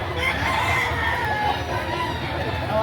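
Chickens cluck and a rooster crows loudly and close at a poultry sale, over a busy background of murmuring people and bustle.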